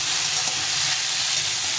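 Potatoes fry with cumin in a hot pan, giving a continuous, loud, even hiss with no voices.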